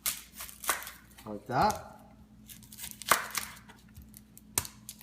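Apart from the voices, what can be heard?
knife cutting the ends off an onion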